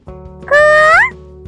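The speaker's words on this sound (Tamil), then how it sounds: "ஈமுக்கோழி." A single loud, nasal emu call with a rising, honking glide, sounding once over a soft, steady musical backing.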